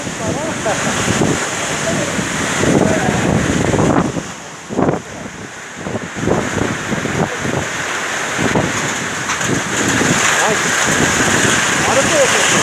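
Strong wind from a tornado buffets the microphone in gusty, roaring bursts for several seconds, with rain-like hiss and a person's agitated voice mixed in.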